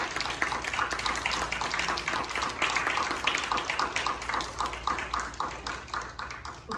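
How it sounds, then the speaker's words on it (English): An audience claps after a summer concert for seniors, a moderate, steady patter of many hands with scattered individual claps, fairly distant and easing toward the end. "can we give a round of applause for all these wonderful performers today?"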